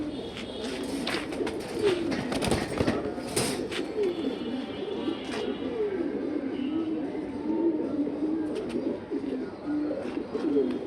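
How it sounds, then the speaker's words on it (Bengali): A pair of brown-necked pigeons cooing repeatedly in low rolling calls, close by, amid bird chatter and some background noise. "খুবই সুন্দর এক পেয়ার খয়রা গলা কবুতর।"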